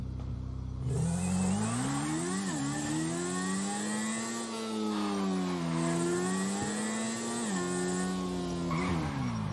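A motorcycle engine revs and drones up close for several seconds, its pitch rising and falling in smooth swells with a couple of sharper throttle blips, with no talk over it.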